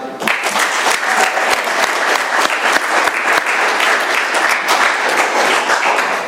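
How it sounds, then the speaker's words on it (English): Applause from the audience at an Alcoholics Anonymous meeting in Doylestown, PA, for a speaker who has just finished sharing: steady, dense clapping from a room full of people, loud and sustained throughout. "Let's have another round of applause for Guy."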